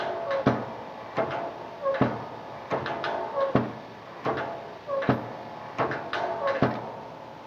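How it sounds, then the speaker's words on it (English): DewEze BeefCake cattle feeder running, a door banging open with each revolution in a steady repeating rhythm of sharp knocks roughly every three-quarters of a second over a mechanical hum, close and moderately loud. "you can correlate every revolution to the door opening, which will allow you to feed in piles"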